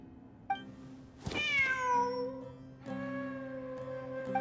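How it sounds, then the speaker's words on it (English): A cat in Genshin Impact gives a clear, drawn-out meow that rises and then falls, then a second, shorter meow, set over a soft, steady game music drone. "Wait, there it is! The cat!"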